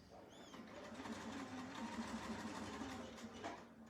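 A sewing machine with a walking foot stitches along a seam in minky fabric, giving a quiet, steady, even hum of rapid stitches throughout.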